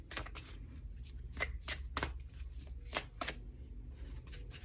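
Tarot cards are shuffled by hand at close range, a soft run of repeated riffling and slapping bursts with uneven rhythm, faint and without talk.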